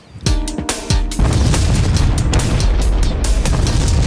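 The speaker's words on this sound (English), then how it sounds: "The bang was loud, but there's a chance the noise was carried up over John's head." A loud explosion bang heard close by: a sharp blast hits, a few quick bursts follow, then a sustained roaring rumble carries on to the end.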